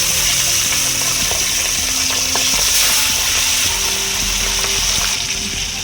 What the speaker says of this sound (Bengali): যেহেতু মাছের সাইজগুলো একটু বড় বড়, তাই জন্য আমি দুটো করে মাছ ভাজবো